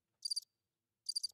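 Crickets chirp in two short, bright trilled bursts about a second apart, each a quick cluster of three or four pulses, standing alone against silence.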